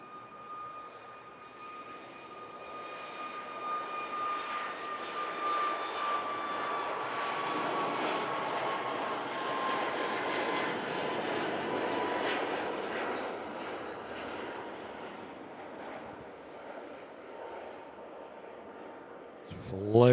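An airliner bound for Lanzarote roars down a Manchester Airport runway and lifts off, its engines building to a long, broad sustained roar with a whining tone before easing slightly. Voices talk over it.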